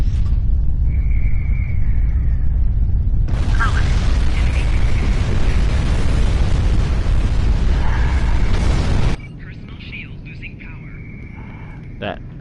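A vessel explodes in Star Trek Online with a loud, roaring blast that holds for several seconds over a continuous game rumble, then cuts off to quieter ambient tones and beeps, with a voice talking.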